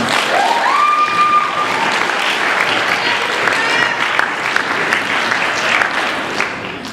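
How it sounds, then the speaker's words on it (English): A student awards ceremony crowd claps loudly and steadily for about seven seconds. A brief whistle-like tone rises near the start, and voices mix into the applause as it slowly fades. "So let's give them all a round of applause."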